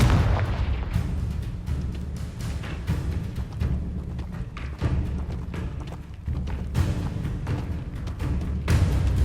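Confringo fire spell in Hogwarts Legacy bursts in a series of deep booming thumps and blasts, loud and close, with rumbling impacts recurring every second or two.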